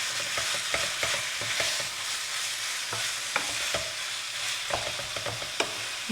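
Minced meat frying and sizzling in a pan while a spoon stirs and breaks it apart, with a steady close hiss broken by repeated scraping and clinking strokes.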